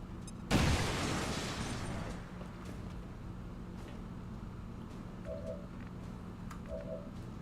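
A frag grenade detonates in the XCOM 2 video game as one loud, sudden blast, followed by a rumbling decay lasting about a second and a half. Low ambient game sound continues afterward with a couple of faint tonal blips.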